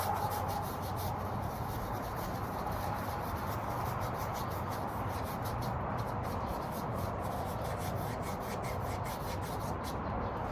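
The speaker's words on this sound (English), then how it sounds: "Scrub in that dark color." A paintbrush scrubs dark paint onto a surface in a continuous dry rubbing hiss, steady and close for the full length with no pauses.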